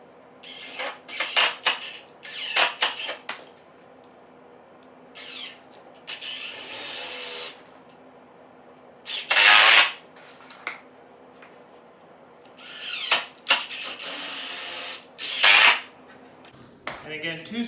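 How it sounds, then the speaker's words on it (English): A power drill drives screws into wooden boards while building a bowyer's bench seat base, with several short whirring bursts separated by pauses, clicks and handling noise, close and fairly loud. "So let's go ahead and get those screwed in now, and then that will give us the base for our seat."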